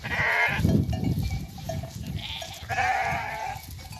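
Sheep bleating close by, a few overlapping calls rising and falling amid a busy, noisy outdoor background.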